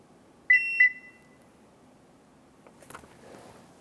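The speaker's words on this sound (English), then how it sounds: "until you hear the OBD plug beep at you" Two short, sharp electronic beeps in quick succession from an OBD programming plug on a 2014-2018 Chevrolet Silverado 1500, loud and close, followed by quiet room noise and a faint clatter.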